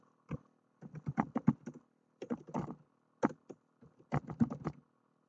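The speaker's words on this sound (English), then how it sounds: "Type in the name of your group cookbook here." A cookbook name is typed on a computer keyboard in several quick runs of crisp key taps, separated by short pauses, close and clear with no talking.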